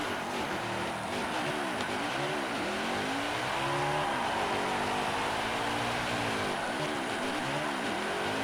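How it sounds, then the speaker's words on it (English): Race cars in NASCAR Heat 5 do post-race burnouts, with engines revving up and down in waves over constant tire hiss and roar, close and loud throughout. "There go the burnouts."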